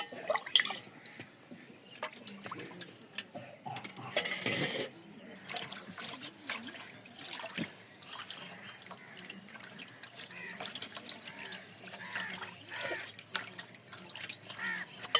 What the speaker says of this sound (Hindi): उसके बाद मैंने अभी पानी डालूंगा अपनी ज़रूरत मुताबिक